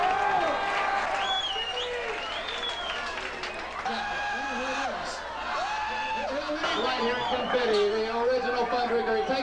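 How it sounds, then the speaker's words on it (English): Audience at a 1983 women's physical competition in Houston, Texas applauds with chatter, laughter and shouts, steady and fairly loud throughout while voices talk and call out over the crowd. "Can we take a bow and another big round of applause?"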